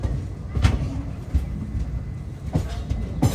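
A train at Rajahmundry railway station, approaching from the arch bridge, gives a steady low rumble with a few sharp clanks and thumps scattered through it, heard from moderately close.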